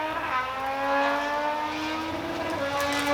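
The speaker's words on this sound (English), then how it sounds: "it's a loud motorbike." A loud motorbike passes at an outdoor backyard barbecue, its engine droning steadily with a rising and falling pitch, fairly close and sustained for a few seconds with no talk.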